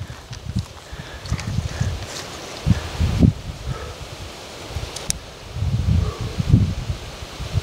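Gusty wind blows outdoors at a shooting range, buffeting the microphone in uneven low rumbles and rustling bursts that rise and fall throughout.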